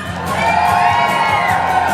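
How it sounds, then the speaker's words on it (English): Children cheering on riders in a gallop race, a loud sustained crowd of young voices shouting and whooping with no pause. "You gonna cheer them on?"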